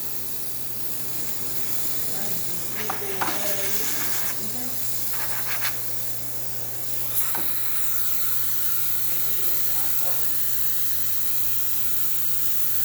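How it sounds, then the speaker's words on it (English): A Gaggia Classic Pro espresso machine's steam wand hisses steadily and close over a constant low machine hum, with brief gurgling and sputtering spurts as it steams, a voice speaking faintly underneath. "the steamer works perfect"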